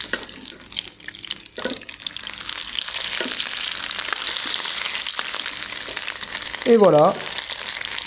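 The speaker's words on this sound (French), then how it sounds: "nos sardines colorent 3-4 minutes par face" Stuffed sardines fry in a hot pan, a faint steady sizzle running throughout, with a brief louder burst near the end and a short spoken phrase over it.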